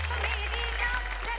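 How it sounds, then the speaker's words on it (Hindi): A brief burst of applause from a dance show audience, steady and fairly dense for its short length, with a constant low hum underneath. "जोरदार तालियां"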